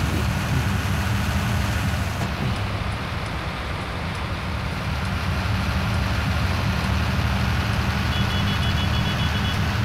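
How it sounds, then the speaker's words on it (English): Farm machinery runs in a field with a steady engine rumble, while a faint repeated reversing beep pulses over the noise at a regular rhythm. "Beep, beep, beep, beep, beep, beep, beep."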